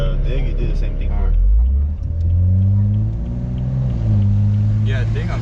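A Subaru WRX engine revs hard at launch, a loud, close rumble with a steep rise into a high, steady drone. A driver talks over it.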